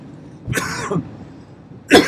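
Two sharp, close coughs separated by a short pause, loud and abrupt against a quiet background.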